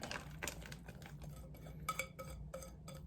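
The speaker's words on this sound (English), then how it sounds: "just going to scrape this into the pan" A spatula scrapes a buttery cracker-crumb mixture into a pan, giving scratchy strokes and light metallic clinks in uneven bursts, close and moderately loud, with no talking.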